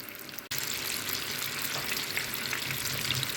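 Scotch eggs fry in a pan of oil, a steady close sizzle and crackle that starts abruptly after a brief quieter moment and carries on evenly with no talking.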